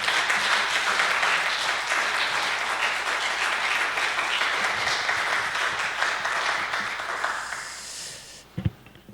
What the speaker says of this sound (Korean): 우리 감사의 박수로